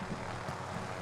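Helicopter rotor and engine drone in Call of Duty Warzone, a steady continuous roar held at an even level throughout, with no other sounds standing out above it.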